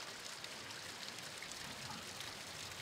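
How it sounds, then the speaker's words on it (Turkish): Rainwater runs everywhere through a forest after a heavy downpour, a steady broadband rush of flowing streams that stays even and continuous throughout, with no voices. "bir önceki günde yağan şiddetli yağmurda, her tarafta sular şırıl şırıl akıyor"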